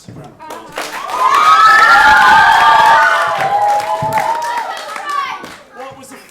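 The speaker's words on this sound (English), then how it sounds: "I think we need to give this team a massive round of applause" A school quiz audience claps and cheers for a team on a live broadcast, a loud burst of excited young voices shouting and whooping over hand claps that peaks early and then gradually tapers off.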